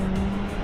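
Race car in the iRacing sim game striking a wall: a continuous loud engine-and-tire roar with steady tonal drone, dense and sustained throughout a brief moment, no talk.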